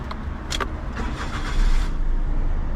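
A 2013 Perodua Viva 1.0 Elite EZ automatic hatchback starts up: a brief starter crank and catch, then the small engine settles into a steady, fairly loud idle close by.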